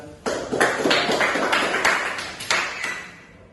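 A small class claps for a student group during a microteaching lesson, a burst of sharp individual claps close by with uneven rhythm that fades toward the end.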